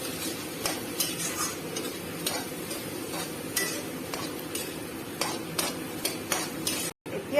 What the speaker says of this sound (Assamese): মিট মছলা অকণমান সৰহকৈ দিওঁ আৰু এইখিনি ধুনীয়াকৈ মিক্স কৰি ল'ম